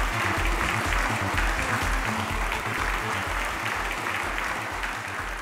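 Audience applause at an award ceremony as a guest is invited on stage, dense, loud, sustained clapping from a large crowd throughout.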